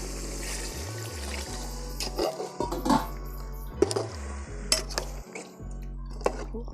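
Water splashes and pours into a metal pot amid clinks and clatter of cookware, close by and fairly busy.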